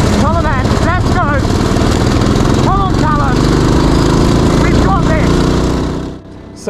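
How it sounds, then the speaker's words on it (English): A racing lawn mower engine roars loud and close without pause, its pitch rising and falling as it revs through gear changes during an endurance race, then dropping at the end. "I got back on the mower, nuts tightened, fuel in, and off we go for our final stint."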